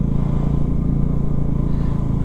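A motorcycle rides along a zigzag mountain road on the way to Tungnath, its engine giving a steady, loud, close drone mixed with wind rumble and no pauses.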